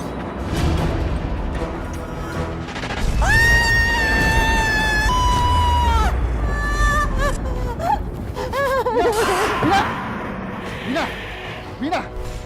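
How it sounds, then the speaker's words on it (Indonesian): A woman screams in a tense domestic scene from an Indonesian TV drama, long high wailing cries rising and breaking over a loud, busy background, followed by shorter sobbing wails. "Teriak kayak orang gila."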